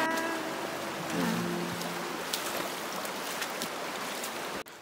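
Feet splash and slosh through a cold, fairly shallow creek crossing on a forest hiking trail, steady rushing water throughout with irregular sloshing steps close by.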